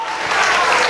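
Loud, steady applause from a church congregation fills the whole second, dense and continuous with no gaps.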